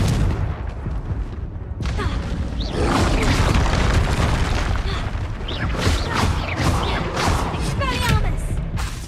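Confringo blasting spells burst in a Hogwarts Legacy fight, bringing repeated loud booms and crackling impacts over a busy combat din, with a voice speaking over part of it.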